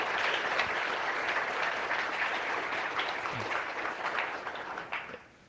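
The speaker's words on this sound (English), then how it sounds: "make sure he gets a round of applause from everyone." Conference audience at a programming languages event gives a sustained round of clapping, dense and fairly loud throughout, then tapering off at the end.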